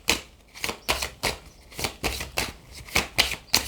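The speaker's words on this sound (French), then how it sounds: "On va prendre une première carte d'énergie avec l'oracle des miroirs." A deck of oracle cards is shuffled by hand in quick rhythmic riffles, each one a crisp papery burst, repeating about a dozen times close up with no talking.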